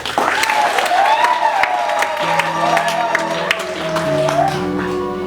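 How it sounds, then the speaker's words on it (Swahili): A crowd claps steadily during a Catholic Mass, a sustained wash of applause with a few cheers and a voice carrying over it throughout. "Ninaomba mtusaidie kumrudishia Mungu shukrani kwa makofi"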